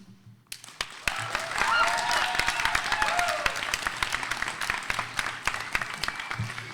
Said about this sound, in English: Huge round of applause for Asia, everybody!